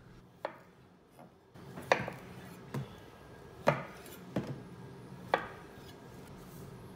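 A knife dicing potatoes on a cutting board, with scattered close chops and knocks at an irregular pace over quiet room tone, no talking.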